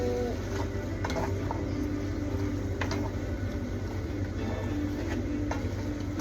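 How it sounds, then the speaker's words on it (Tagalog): Canned liver spread stirred into a pot of beef caldereta, a steady simmering sizzle with occasional spoon scrapes and taps against the pot. "Isang latang liver spread lang po tayo. Tapos haluin lang natin ng konti."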